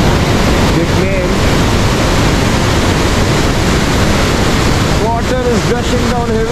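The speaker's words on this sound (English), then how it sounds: "Water is gushing down heavily." The Rhine Falls in Switzerland roar with heavy gushing water, a dense, loud, continuous rush, while people talk briefly over it near the end.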